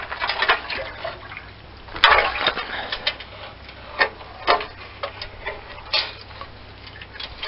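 Water dripping and trickling out of an old, removed car muffler, with irregular ticking drips and splashes, a sharper knock near the start, close and fairly quiet.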